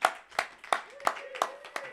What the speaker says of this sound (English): can we please have a virtual round of applause for the one and only Woolly